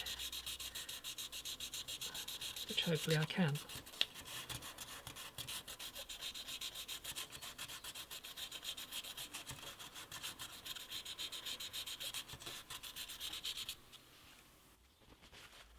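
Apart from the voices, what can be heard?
hand sanding wooden guitar headstock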